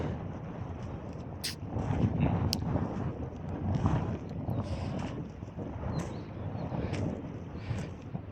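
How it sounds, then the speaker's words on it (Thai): Cold wind gusting across a cabbage field, a broad rumbling roar of air buffeting the microphone that swells and eases, with faint scattered clicks and no talking. "ลมหนาววีวี"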